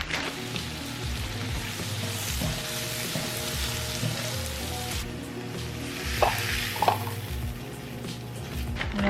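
Green beans sizzling with garlic butter in a skillet, a continuous loud frying hiss with a steady crackle, a few brief utensil clinks partway through, and no talking.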